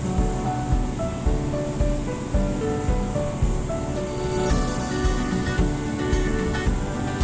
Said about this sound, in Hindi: अब इसमें हरी मिर्च डालेंगे